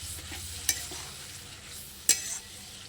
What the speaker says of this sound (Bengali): আমি এই মশলাটা কাঁচা পেঁয়াজ ভাজার সাথে আমি এটা ভেজে নেব